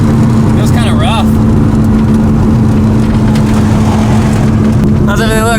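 A rebuilt Mazda RX7 engine drones loud and steady with a strong low hum while the car drives, and voices talk over it throughout.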